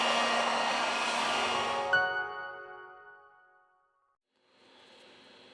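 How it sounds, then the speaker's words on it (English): A heat gun runs on a Huawei P40 Lite back cover at 90 °C, its steady broadband blowing loud for about two seconds before winding down to near silence, then a fainter hum returns. "With the help of a heat gun, we apply 90 Celsius degrees during 4 minutes."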